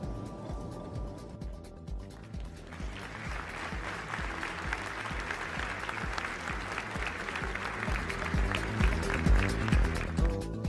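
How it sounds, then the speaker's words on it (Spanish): A crowd at a ceremony gives a sustained round of applause in memory of former Argentine president Néstor Kirchner, dense clapping that swells and grows louder over time. "nos pusiéramos de pie y ofreciéramos un minuto de aplauso a la memoria del presidente Kirchner"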